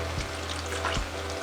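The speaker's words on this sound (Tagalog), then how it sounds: "At ngayon ay pwede na tayong maglagay ng tubig." Water poured into a pan of simmering beef nilapad, a Bisaya-style beef dish, giving a steady sizzling, bubbling wash with two brief louder splashes near the start and near the middle.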